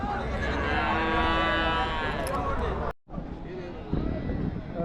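Buffalo calves lowing at the busy Namakkal cattle market in Tamil Nadu, repeated moos close by over a steady crowd murmur, with a brief dropout partway through before the market din resumes.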